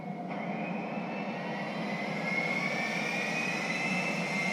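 Military jet engine in GTA 5, the Vestra, a steady loud whine and roar with a slowly rising tone, continuous and close, with no voices.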